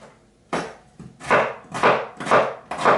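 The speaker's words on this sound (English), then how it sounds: "Let's chop these onions." A knife dicing onions on a cutting board, five heavy, evenly spaced chopping thuds about half a second apart, loud and close with no talk.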